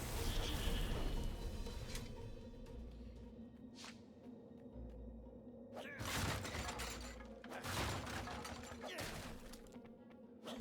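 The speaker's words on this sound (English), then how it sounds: "Smashing things was fun." Objects smashing and shattering in the action game Stories: The Path of Destinies, several crashing breaks spread over about ten seconds over steady game background noise, with no speech.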